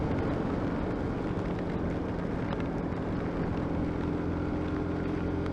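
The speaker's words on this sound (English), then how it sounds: "because it is a little bit windy as well" Steady wind noise buffets the microphone, a constant low rumble and broadband roar with no break, like riding fast through gusty air.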